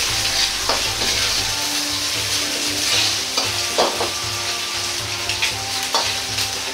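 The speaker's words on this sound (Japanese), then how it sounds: "火から油が溢れ出てくるのでこの油を使い揚げ焼きにしていきます。" Pork belly fries in its own rendered oil over high heat in a wok for curry pork fried rice. A constant close sizzle is broken by several sharp scrapes and clatters of stirring, with no talking.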